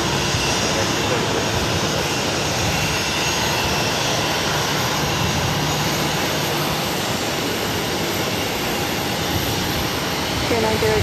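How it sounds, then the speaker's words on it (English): A jet airliner lands on the runway at Boston Logan airport, its engines giving a steady, loud broadband roar that holds unbroken throughout with no voices over it. "how pilots can be so precise getting that nose gear right down that center line"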